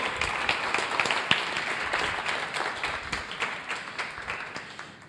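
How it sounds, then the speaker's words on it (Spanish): A room full of people applauds the photographer, steady dense clapping with a few sharper claps standing out, fading slightly toward the end. "Un aplauso aquí al de la foto"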